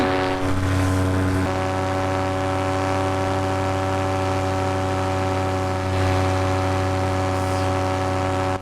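Paramotor engine droning steadily in flight near 10,000 feet, a loud continuous propeller hum with a constant pitch and a buzzing tone throughout, slight swells in the wind rush, no voices.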